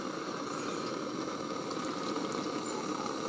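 Water poured into a pot of sizzling onions and spices for an Indian one-pot chicken curry gives a steady, dense hiss and bubbling sizzle, close and continuous, with no voices.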